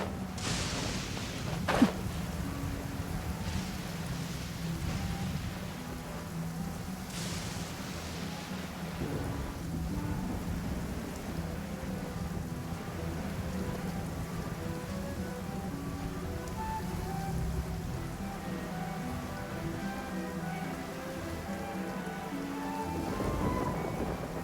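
Steady rain falls with rolling thunder throughout a stormy scene in Genshin Impact, with a sharp thunderclap near the start and a continuous low rumble beneath the downpour. No one speaks.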